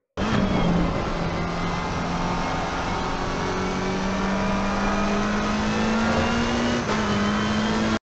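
A McLaren 720 GT3 race car engine in Assetto Corsa, loud and steady, the revs holding a droning pitch that climbs gradually under throttle, with brief dips around gear changes.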